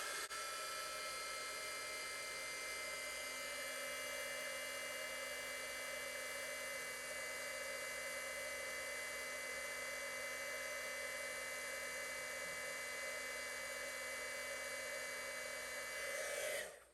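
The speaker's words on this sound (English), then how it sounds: "Have the heat gun here." A heat gun runs continuously for about sixteen seconds with a steady, whining, high-pitched blowing hum at an even level until it cuts off at the end.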